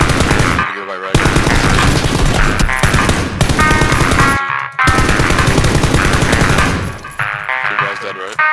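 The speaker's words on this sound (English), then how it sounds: "He tried to shoot me" Loud, dense gunfire from a PUBG battle royale firefight, rapid bursts running almost continuously with a couple of brief gaps, with players talking over it.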